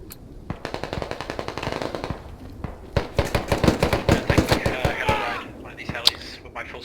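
Rapid bursts of automatic gunfire in the video game Squad, a dense rattle of shots in uneven volleys with a voice talking over the firing throughout.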